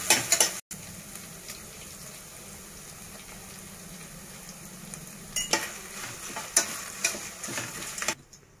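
Dried chilies fry in oil, sizzling steadily in a pan with a constant frying hiss, broken by a few sharp clicks and scrapes of stirring near the end.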